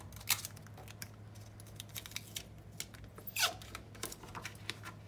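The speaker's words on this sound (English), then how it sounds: "I'm going to sticky tape it" Sticky tape is pulled and pressed onto folded paper flaps, making soft crinkles, squeaky tears and scattered ticks over a faint background hum.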